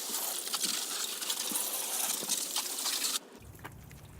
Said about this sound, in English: We're going to go ahead and hose everything down.